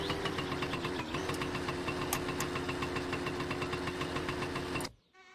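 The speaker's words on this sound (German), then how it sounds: "Aber ich finde das Geräusch von dem Motorrad total genial." A motorcycle engine from the driving game My Summer Car runs steadily near and loud, a continuous rumbling drone with a rapid knocking pulse that cuts off abruptly near the end.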